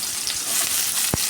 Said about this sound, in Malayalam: അത് നന്നായിട്ട് വഴറ്റാം